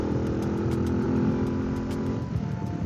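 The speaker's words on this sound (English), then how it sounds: "It really does make the engine sound noisy though. Considering it's only a 125, it's such a noisy exhaust." A 125cc motorcycle with a noisy exhaust drones steadily while riding through the countryside, the engine hum constant and close with a faint rise near the end, with no talking.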